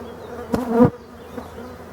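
Honey bees buzz at an opened beehive, one close buzzing pass swelling and fading in under half a second against a quiet hum.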